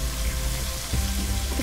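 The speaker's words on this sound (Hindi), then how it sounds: "तकरीबन 1 मिनट के लिए अदरक लहसुन को फ्राई करेंगे मीडियम फ्लेम पर" Ginger garlic paste frying on a medium flame in a pan gives a dense, steady sizzle with bubbling, close by and continuous with no voices.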